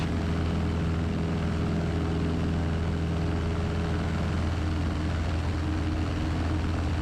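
A small airplane flies from Cody, Wyoming toward the Wood River, and its engine and propeller give a steady, loud, unbroken drone heard close up from the cabin.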